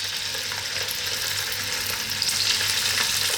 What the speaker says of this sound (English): We're just going to add a little bit of salt and pepper to this and fry it for like sort of 4 minutes